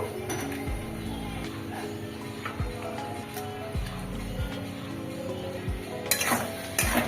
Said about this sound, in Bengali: এইবার একে একে করে ডিমগুলো দিয়ে দেব